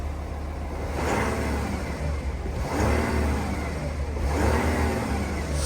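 An Audi A8 with about 100,000 km gets short presses of the accelerator in a garage, giving three rising engine revs, each swelling and falling back, loud and close.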